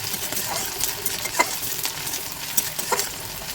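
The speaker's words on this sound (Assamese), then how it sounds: "পিঁয়াজখিনি অলপ লাল হোৱালৈকে ভাজিব লাগিব" Onions stir-fried in hot oil until reddish give a steady sizzle close by, punctuated by a few scraping clinks of a spatula against the pan, with no talking.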